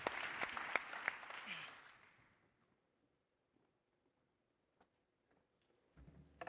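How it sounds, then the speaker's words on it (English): A short burst of audience applause at a global forum fades out within about two seconds into near silence, with only a few faint isolated claps and a brief rumble of noise near the end. "Let's give them a round of applause."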